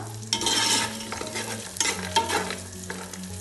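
Cashews and raisins fry in hot oil in a pan for a vegetable dum biryani, a close, quiet sizzle broken by scraping stirs of a utensil against the pan.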